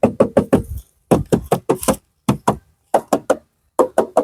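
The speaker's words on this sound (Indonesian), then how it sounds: "atas kita ketok dulu pintu" Knuckles rap on the door panel of a 1991 Honda Grand Civic sedan in quick close bursts of three or four dry knocks, separated by short pauses, with no talk.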